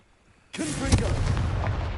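A Confringo spell blast in Hogwarts Legacy erupts after a brief near-silence, a sudden loud booming burst followed by a sustained crackling, rumbling roar that holds for over a second.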